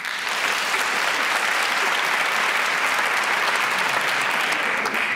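A room full of people applauds, a dense, continuous wash of clapping that stays loud and even throughout.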